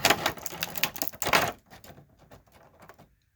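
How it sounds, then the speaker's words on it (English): An S.H. Figuarts Frieza third-form action figure is pulled from its plastic packaging. Close, sharp crinkles and clicks come in quick bursts, then thin out into quieter, scattered taps. "I'm just getting it out of the packaging right now."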